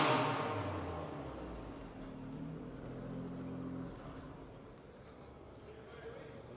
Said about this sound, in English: That was this car that was revving, if you heard that in the background.